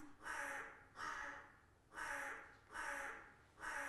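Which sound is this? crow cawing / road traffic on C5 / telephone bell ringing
crow cawing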